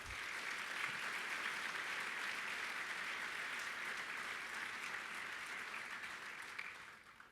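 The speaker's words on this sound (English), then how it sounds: "a second round of applause for Jason and our entire USBC staff" Convention audience at a bowling organization's annual meeting applauding staff, a dense, steady wash of many hands clapping for about seven seconds before tapering off at the end, with no talk over it.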